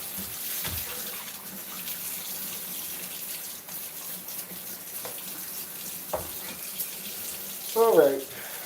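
Tap water runs steadily into a freshly scrubbed sink, rinsing it with a continuous close splashing flow, and a voice briefly speaks near the end.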